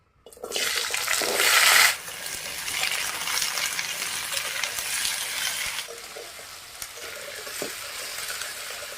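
Vegetables hit hot oil tempered with cumin in a wok, bursting into a loud hiss that settles into steady close sizzling and frying with faint stirring.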